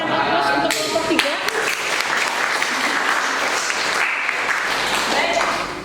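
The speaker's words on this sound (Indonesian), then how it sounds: "Kita berikan aplaus untuk kelompok 3." Loud, sustained applause from a classroom audience for a student group that has just presented, dense clapping filling the room with a few sharper claps near the start.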